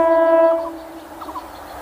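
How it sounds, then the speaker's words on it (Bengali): A train horn sounds loud and steady for about half a second as the Santragachi–Amta local train arrives at a station, then fades as a rail car rumbles and clatters nearby. "ঢুকছে ট্রেন, সাঁতরাগাছি আমতা লোকাল"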